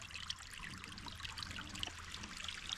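A creek runs out from beneath a tree in the woods, giving a steady, close trickling and babbling of water with no pause and no voices.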